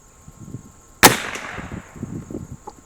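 A single sharp gunshot from an Anschutz 54 match rifle fired at targets, close and loud with a quick decaying tail, over faint background noise.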